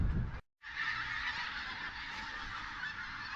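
Loud, continuous honking from a flock of geese beside a main road in the countryside near Rossie Castle, Angus, Scotland, broken only by a brief gap near the start.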